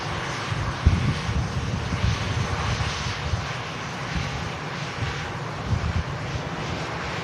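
An airliner arrives at Manchester Airport, its engines a steady, moderately loud broadband roar with rumbling low end and some wind buffeting, with no talk over it.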